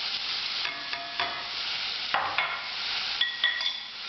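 Spoon scraping and stirring spices and tomato puree into chilli con carne in a pan, with soft sizzling and a few distinct scrapes and clinks over about four seconds, no talking.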